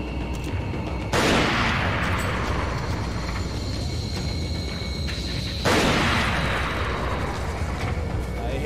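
Two loud, booming gunshots from the video game Resident Evil 4 in the Life in Hell mod, several seconds apart, each with a long reverberating tail over a steady game background.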